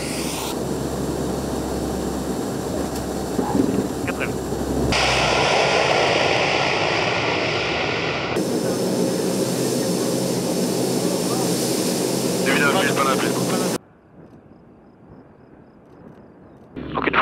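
Military transport aircraft making a special-operations assault landing on the runway at Cazaux, engine roar loud and steady, shifting in tone partway through, then dropping to quiet near the end.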